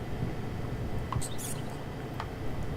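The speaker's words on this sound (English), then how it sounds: "Sounded like a rat." Faint rat-like creeping and scurrying inside the Layers of Fear horror video game, a few brief rustling scratches rising over a steady low ambient drone with no talk.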